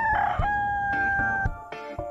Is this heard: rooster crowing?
yes